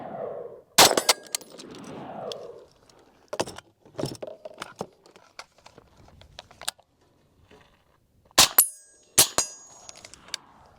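An original Armalite AR-180 rifle fires single sharp shots at an outdoor range, several spaced cracks with quieter clatter and movement between them, loud and close.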